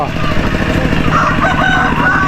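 A rooster crows loudly and close at a small rural market in Thakhek, Laos, where chickens are sold in baskets, with clucking and market bustle around it.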